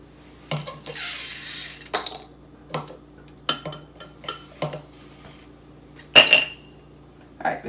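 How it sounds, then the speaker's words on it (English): Tongs drop ice into glasses with a series of sharp, close clinks and clatters spaced irregularly over several seconds, with one louder, brighter clink near the end. "I'm going to grab some tongs here and throw some ice into our glasses."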